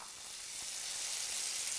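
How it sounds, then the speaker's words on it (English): Steak searing in a hot pan with olive oil gives a steady, bright sizzle that builds slightly in loudness, heard close and alone without any talk. "Can you hear that sizzle? That's what you're looking for."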